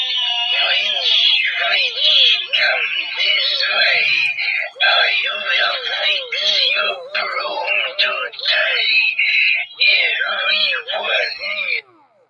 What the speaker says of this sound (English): A cackling witch.